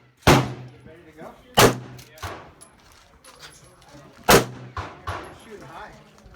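Sharp pistol shots crack out at an outdoor shooting range, three loud single reports spaced a second or more apart, with quieter distant bangs and faint voices in between.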